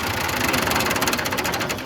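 A tractor engine runs close by at a wheat harvest in Punjab, a loud, even, rapid diesel knocking throb.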